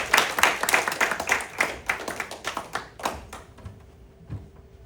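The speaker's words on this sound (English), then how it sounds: "Applause for Selwyn Fisher." An audience at a comedy show at a Marriott claps loudly for a comedian, a dense burst of applause that thins into scattered claps and dies away.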